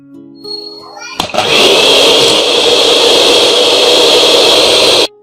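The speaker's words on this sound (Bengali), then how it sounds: "প্রথমে আমি লো স্পিডে বিট করব, তারপর মিডিয়াম হাইয়ে আমি বিট করব" An electric mixer beats four eggs at low speed for a black forest cake. After a quiet start with faint voices it switches on abruptly into a loud, steady whirring buzz, then cuts off sharply near the end.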